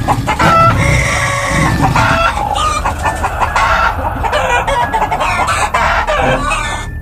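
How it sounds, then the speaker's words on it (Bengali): Cartoon chickens cluck and a rooster crows in a loud, busy barnyard chorus, with overlapping calls continuing throughout over a steady background. "মুরগিগুলো এরম ভাবে ডাকছে কেন?"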